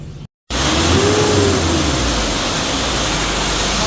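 Mitsubishi L300 Euro 4 diesel van engine revving steadily after its turbo and EGR valve were cleaned, a loud, sustained roar close by that follows a brief silent gap, with no voices.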